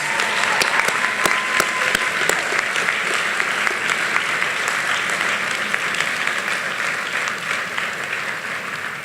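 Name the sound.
graduates applauding faculty and families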